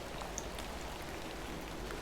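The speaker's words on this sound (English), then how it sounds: "Little rain is no bother." Rain falling in the video game Hob's Barrow, a soft, even hiss of steady rainfall with a faint patter of drops, continuous and alone without speech.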